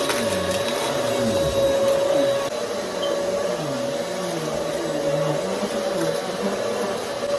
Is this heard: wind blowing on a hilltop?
no